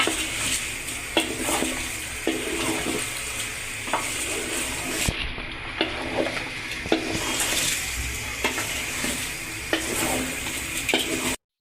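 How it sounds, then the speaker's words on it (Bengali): Biryani rice being stirred into meat in a pot, a steady sizzle under repeated scraping strokes of a spoon against the metal, close and continuous with a brief pause midway. "মাংসের সাথে ভালোভাবে মিশিয়ে নিব।"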